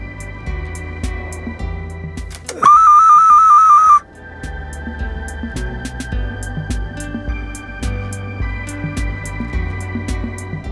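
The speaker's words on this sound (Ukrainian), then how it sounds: "І проколоти, і він свистітиме" Clay whistle from Opishne, Ukraine, blown once in a loud sustained warbling tone lasting just over a second, over quiet background clatter.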